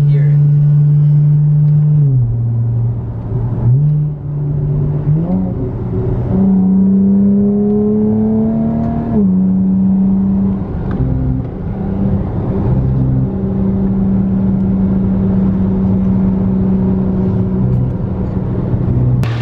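Straight-piped Dodge Hellcat engine revving and droning steadily with rising and falling pitch, loud and close throughout, with brief exhaust pops between revs and no talk.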